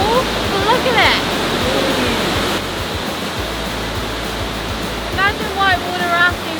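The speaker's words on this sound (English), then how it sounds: "And here behind us we have the great Una waterfall, or Martin Ford waterfall." The Una waterfall, also called Martin Brod, in Bosnia and Herzegovina, gives off a loud, continuous broadband roar of rushing whitewater. Brief voices rise above the steady wash near the start and again near the end.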